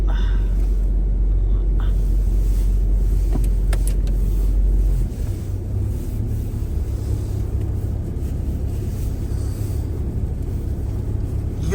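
A cold car engine in Canada idles with a rough, deep, steady rumble before warming up; partway through, the low drone suddenly drops to a lighter, uneven running note.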